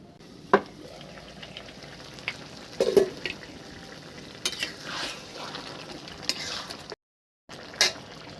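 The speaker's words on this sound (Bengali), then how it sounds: "এটা আমি সুন্দর করে কষিয়ে নেব" Sponge gourd is stir-fried in a pan, a soft sizzle under occasional spatula scrapes and knocks against the pan, with a short silent gap near the end.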